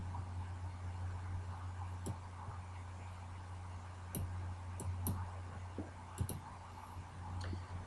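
Sparse, faint mouse clicks at irregular intervals, a few in quick pairs, over a steady low electrical hum while a clock-in time is entered into scheduling software.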